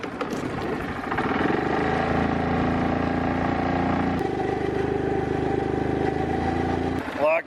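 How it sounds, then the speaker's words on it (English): A Yamaha four-wheeler stuck at an irrigation pivot cranks and catches, then idles with a steady, close engine rumble that shifts pitch partway through before cutting off. "Better start my motor so I can back up."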